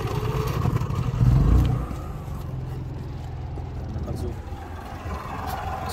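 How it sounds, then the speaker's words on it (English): Portable generator inside a mobile car wash van starts up and settles into a steady, close engine drone, with a brief louder surge early on and a rough mechanical rumble throughout. "take out the chemicals because they're blocking access to the generator, and I turn it on"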